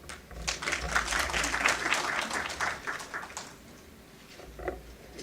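Applause from the audience at a formal felicitation function honouring a chief justice, a dense patter of clapping that swells for about three seconds, then thins and fades to a lighter scatter near the end.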